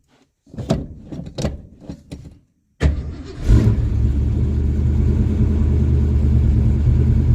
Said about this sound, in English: Completely cold start after 24 hours, the new fuel system.